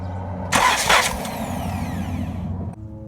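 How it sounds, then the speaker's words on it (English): A Chrysler Dodge 3.6 V6 Pentastar engine is cranked in a single loud burst lasting about two seconds, a churning starter whir and mechanical rumble that cuts off abruptly into a low hum. "And now I'm going to attempt to spin the engine."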